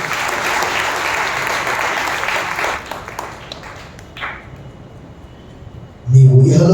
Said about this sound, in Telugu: నమ్మిన వారు బిగ్గరగా చప్పట్లు ప్రభువుని మహిమపరచండి